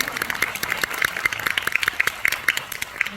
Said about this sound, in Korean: 짧게 박수를 한번 드릴까요?